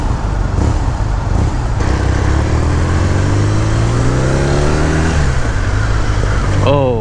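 A 2018 BMW R nineT motorcycle engine on a demo ride, droning loud and close throughout as it revs up in a rising pitch, with wind noise over it.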